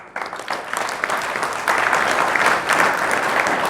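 An audience at a spiritual talk breaks into sustained applause, many hands clapping densely and loudly for several seconds and swelling partway through, with no speech over it.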